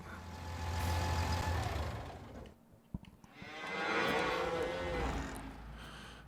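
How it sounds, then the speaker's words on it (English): Cattle on a farm in Farming Simulator 19 give two long, loud moos separated by a brief pause, with a faint click between them and no speech. "But first I want to get these cows fed."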